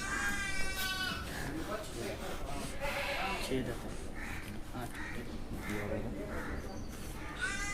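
A large Gujri Andul goat at a goat farm in Vasai bleats several times over a busy mix of voices, with more goat calls around it nearby.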